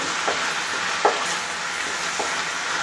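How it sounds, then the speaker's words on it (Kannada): Finely chopped tomatoes fry in a pan for a tomato rasam, a steady close hiss of sizzling oil punctuated by a few soft stirring knocks, with no one speaking. "ಸಣ್ಣದಾಗಿ ಕಟ್ ಮಾಡಿಟ್ಕೊಂಡಿರೋ ಟೊಮೆಟೊ ಸೇರಿಸ್ತಾ ಇದ್ದೀನಿ ನೋಡಿ ಟೊಮೆಟೊ ಫುಲ್ಲು ಸಾಫ್ಟ್ ಆಗೋದು ಚೆನ್ನಾಗಿ ಫ್ರೈ ಮಾಡ್ಕೊಳ್ಳಿ"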